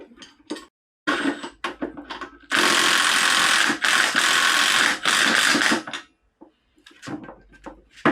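An impact gun tightens front suspension bolts on a Volkswagen T5 in a workshop. It fires in two loud, close, sustained rattling bursts lasting several seconds, with lighter clinks and handling noises before and after.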